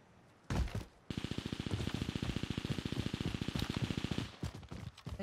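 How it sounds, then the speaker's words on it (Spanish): Rapid bursts of automatic gunfire in the video game Call of Duty Warzone, sounding muffled and distant: a short shot, then a long rattling stream of regular reports. "Disparos por ahí. Pero muy lejos."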